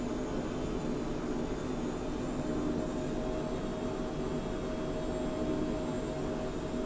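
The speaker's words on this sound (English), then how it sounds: "So I'll just bring the throttles back to cruise setting." Steady broadband roar of twin jet engines on a Phenom 100 at cruise power in Microsoft Flight Simulator, an even, continuous cabin drone with a faint tonal hum, no talk.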